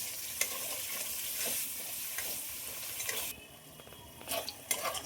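Spices with turmeric and salt sizzle in a pan while a spoon stirs and scrapes, with occasional clinks against the metal; no one speaks.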